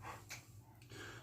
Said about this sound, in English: That's my dog Hank.